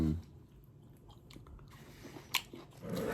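Someone bites into and chews sour grapes close to the mic, soft wet crunches with a sharper bite near the end, quiet overall with no talking.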